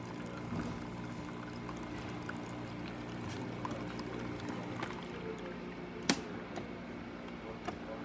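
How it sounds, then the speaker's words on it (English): A Saeco Xelsis coffee machine hums steadily while water streams out of it, with a single sharp click near the end. "Water flow coming out of the machine."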